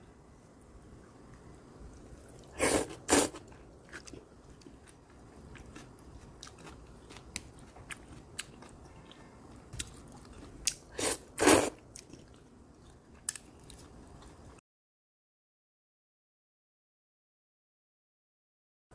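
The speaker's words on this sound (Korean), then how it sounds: "콩국수를 아주 맛있게 잘 먹었습니다." Someone eats Korean cold soybean noodle soup (kongguksu) at close range, with soft chewing and a few sharp, crunchy bites standing out over a quiet background.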